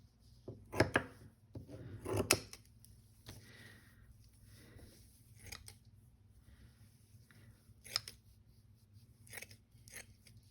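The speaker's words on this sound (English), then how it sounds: "this vintage lace. Let's cut it into 4 pieces." Scissors snipping through vintage lace, two clear cuts up close followed by a few fainter, sparse snips in a quiet room.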